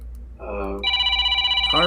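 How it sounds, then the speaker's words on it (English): A telephone rings in a call-in show setting: one electronic ring tone with a steady buzzing warble that shifts pitch partway through, loud and close, with no talking over it. "All right, we got to take a phone call."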